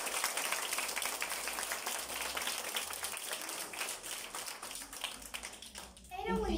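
A school audience applauds the narrator of a class play, a dense clapping that carries through the clip, with children's voices mixed in and a short voice at the end.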